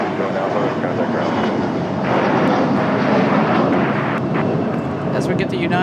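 United Express Embraer E175 jet taxiing out at Raleigh-Durham International Airport, a continuous engine rumble and whine rising slightly midway, with someone talking over it.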